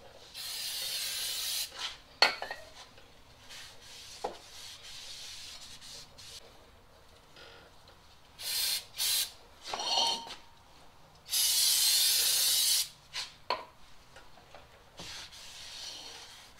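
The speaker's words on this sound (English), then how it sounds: "Make sure you kind of wipe them down with a little brake part cleaner and just wipe off all that little cosmoline in the back." Brake parts cleaner sprayed onto a new front brake rotor for a Chevy Trailblazer: a few short, close hissing bursts, the longest about a second and a half, separated by quiet pauses and faint handling noises.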